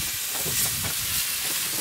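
Zucchini frying in a pan in the galley of a sailboat at sea, a soft steady sizzle with faint stirring, close and low in level, no voices.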